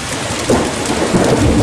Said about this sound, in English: video of the hail hammering the back deck last night